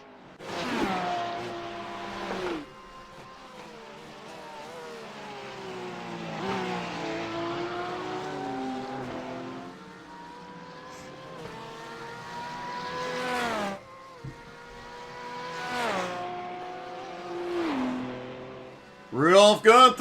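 Race car engines from a GT3 racing game at the Nürburgring rev and shift repeatedly, the pitch rising and falling over several gear changes, with a louder burst of revving near the end.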